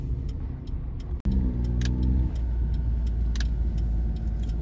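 Cars pass along a city street in Hakodate, Japan, with a steady engine hum, a louder vehicle going by near the middle and faint clicks over the traffic noise, and no one talking.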